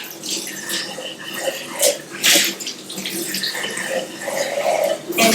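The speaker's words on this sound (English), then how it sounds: "Wash your jars really good in some warm soapy water and get them rinsed out." Warm soapy water splashes and runs as canning jars are washed and rinsed in a sink, a steady close wash with sloshing bursts and clinks, no one speaking.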